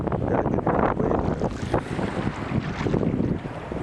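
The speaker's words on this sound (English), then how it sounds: "Look at the waves." Ocean waves wash and rumble along a beach in steady broadband surges, with heavy wind buffeting the microphone and no voices present.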